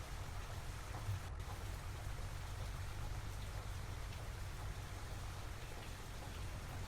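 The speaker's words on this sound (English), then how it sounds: "It'd be really nice if you stopped raining." Steady rain falls on a farm in Farming Simulator 25, a constant dense patter with a low rumbling undertone and no voices.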